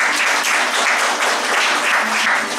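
A church congregation at a Sunday evening service applauding loudly, dense continuous clapping close and full throughout.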